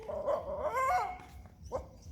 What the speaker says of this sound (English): there's a doggy in the street